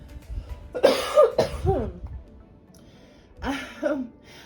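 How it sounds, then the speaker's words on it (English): A sick person coughs close up in two bursts, a rough fit of several coughs followed by a pause and then another throaty cough. "I am about to cough"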